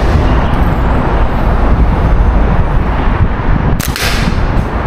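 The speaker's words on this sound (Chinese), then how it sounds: "第三瓶直接打炸了" A pulley slingshot with heavy rubber bands fires at a bottle, and a single sharp crack of the bottle bursting cuts through loud, constant outdoor roar near the end.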